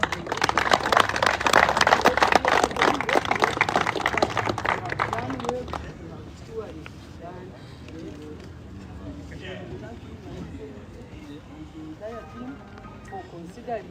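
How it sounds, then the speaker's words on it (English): A team claps for the speaker at an outdoor political gathering in Western Uganda, a loud dense burst of hands for several seconds that cuts off abruptly, leaving crowd murmur and voices behind. "I ask my team to clap for"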